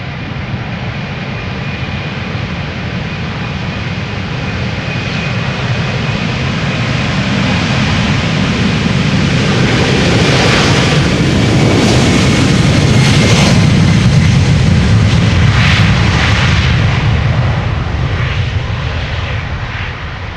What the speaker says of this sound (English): Air China Cargo flight 1040 to Shanghai, 747 freighter